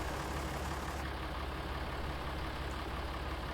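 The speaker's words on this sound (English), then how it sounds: "It's a very simple tractor. It sounds great as well." A Deutz tractor engine in Farming Simulator 22, upgraded to a 6.38 Special, runs with a steady, dense, droning idle throughout, loud and close with no talk.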